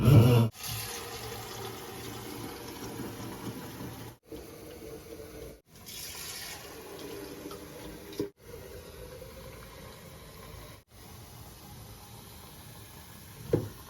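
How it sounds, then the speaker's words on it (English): Water running into the tank chambers of an Osmo Fresh Quella Pro reverse osmosis filter, a soft, steady pouring and trickling, quiet and close, broken by a few short gaps and clunks. "we are going to fill both chambers up"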